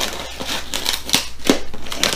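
Paper or plastic mailing packaging being torn open by hand, a few sharp crinkling rips and crunches in quick succession, close and fairly loud.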